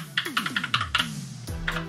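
Keys tapped on a Redragon K652 keyboard, a quick run of crisp, close clicks in an uneven typing rhythm, with faint gliding tones from a phone game underneath.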